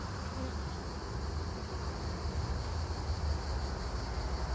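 Honeybees buzz steadily in a dense, continuous drone at an open hive during a garden hive inspection, close and unbroken with no voices.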